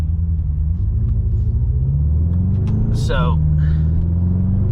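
A BMW M6 is driven fast with its rear wheels spinning, giving a loud, steady low engine rumble inside the car whose pitch shifts up and down, with a brief spoken word near the middle.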